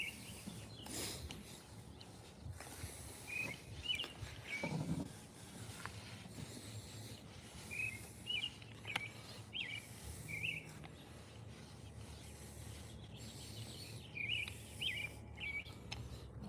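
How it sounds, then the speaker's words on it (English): Spring birds chirp outdoors in short high bursts, some near and some farther off, over a faint steady background hum, with occasional soft bumps and handling noises. "the birds are chirping"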